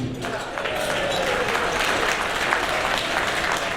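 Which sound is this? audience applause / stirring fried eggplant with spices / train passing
audience applause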